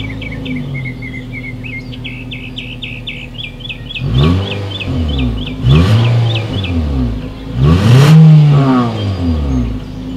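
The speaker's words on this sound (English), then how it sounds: "As always, here is that exhaust clip." A 2019 Nissan Sentra revs its engine from idle in three rising and falling exhaust bursts, loud and close, while birds chirp in the background.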